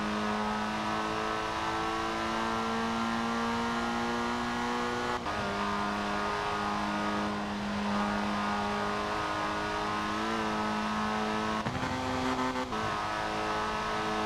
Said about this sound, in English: I'll probably drive around for a bit in my Aston Martin that I brought out